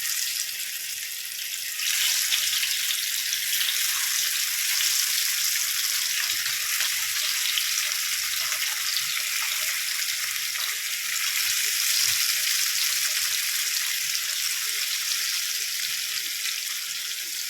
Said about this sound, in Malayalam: നമ്മുടെ മത്തി വറുക്കാനുള്ള പാൻ വെച്ച് കുറച്ച് എണ്ണ ഒഴിച്ചു കൊടുത്തിട്ടുണ്ട്